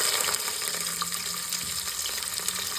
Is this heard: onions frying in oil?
yes